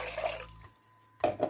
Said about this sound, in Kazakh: 1 литр суды қазанға құйып